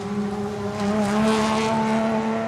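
An H6 class rally car on a forest gravel stage at Mt Grey, Ashley Forest, in the Canterbury Rally, its engine droning steadily and loudly as it passes close by, with no voices.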